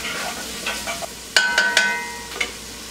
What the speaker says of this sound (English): But let me get this into the pot and let it be sauteing down some.